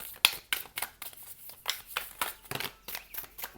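Tarot cards being shuffled by hand, a close, quiet series of quick papery riffles and slides.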